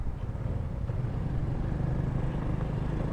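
Engine and exhaust rumble from a car following closely behind a moving Honda Wave RSX 110 motorcycle on the road, a steady low drone mixed with wind noise.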